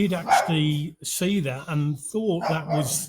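A dog barks in short yips interleaved with someone talking, the barks brief and partly masked by the close, dominant speech.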